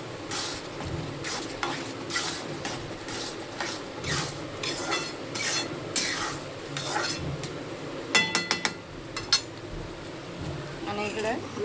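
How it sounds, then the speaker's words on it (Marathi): Curry leaves and garlic heat in a pan for amti, giving a steady sizzle with stirring scrapes and a few sharp metallic utensil clinks near the end; voice-like sounds surface in the background. "आणि आमटीसाठी कढीपत्ता आणि लसूण घेतलेला आहे. गरम करत आहे मी"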